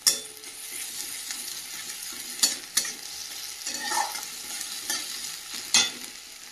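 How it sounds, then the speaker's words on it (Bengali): Ginger garlic paste fries with browned onions in a pan, a steady close sizzle with a few sharp scrapes of stirring, and no voices. "দিয়ে দেবো আদা রসুন বাটা,"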